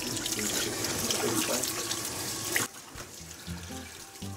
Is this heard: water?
yes